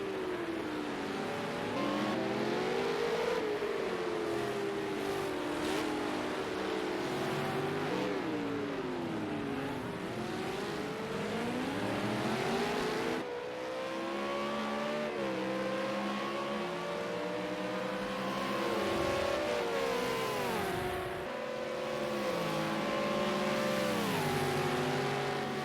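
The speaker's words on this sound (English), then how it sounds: "Tommy and Marky Mark side by side down pit straight" V8 Supercars race on the Long Beach street circuit, engines screaming and revving with gear changes and sweeping pitch shifts as cars pass close and loud, a continuous roar.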